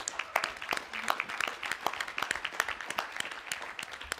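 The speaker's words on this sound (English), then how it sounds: "I think we should give Denny a big round of applause." A room full of people at a public forum on equitable and affordable housing in Los Angeles claps for a local leader, a lively round of many distinct hand claps, close and steady.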